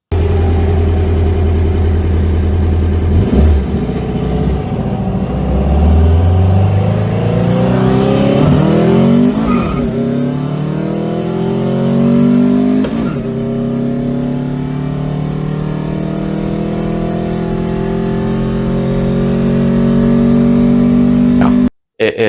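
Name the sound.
air-cooled VW car with dual 40 IDF carburetors revving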